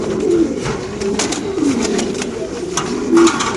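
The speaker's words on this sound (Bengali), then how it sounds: "মাশাআল্লাহ, আমরা কবুতরে দেখা দিচ্ছি।" Racer pigeons coo at a pigeon market, giving several low throaty coos close by against continuous crowd noise and faint voices.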